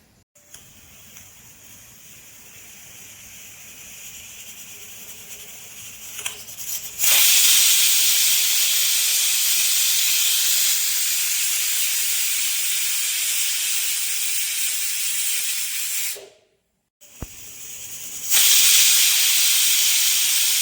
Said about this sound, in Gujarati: કુકરનું ઢાંકણું બંધ કરી દે અને 2 વિસલ વાગે એટલે બંધ કરી દઈશું કુકર